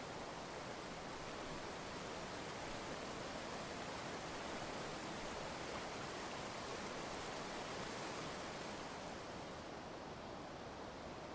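Steady broadband rush of river water flowing beneath a solid Roman stone bridge where an ancient Roman road crossed the Vivei river, a continuous wash with no talk.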